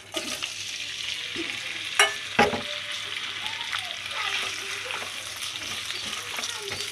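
Garlic, ginger, green chili and neem leaves fry in hot oil, giving a steady sizzle with scattered stirring clatters and a couple of sharp utensil knocks, close by and without talk.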